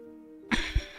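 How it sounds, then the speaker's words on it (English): A single short throat clear, near and fairly loud, breaking in after a stretch of quiet room tone with a low steady hum, then a second deeper grunt-like burst before it fades. "Sorry for clearing my throat."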